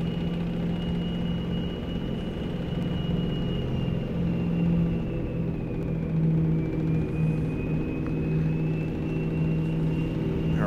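A Mack Cruiseliner truck with a 12-speed Maxitorque transmission drives through a tunnel in American Truck Simulator, its engine a steady low rumble with a faint whine rising and falling slightly, held at moderate level throughout.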